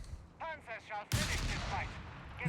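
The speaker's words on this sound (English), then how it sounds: "Heavy mortar barraging down here." Heavy mortar barrage in the strategy game Company of Heroes 3 during a 2v2 match. A sudden loud blast sets off a sustained roar of explosions, and a commentator talks just before it.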